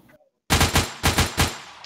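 Handgun fire in the video game Project Confrontation: after a brief quiet moment, three or four loud, close shots in quick succession ring out over a sustained roar.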